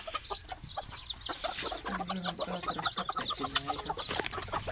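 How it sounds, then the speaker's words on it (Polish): Chickens in a coop, including a broody hen, giving soft repeated clucks and low murmuring calls, close by amid light rustling. "Tu jest fajna kwoka, tu siedzi."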